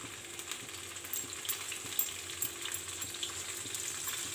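Paneer pieces fry lightly in hot oil in a pan, producing a continuous close sizzle with small pops and occasional stirring scrapes.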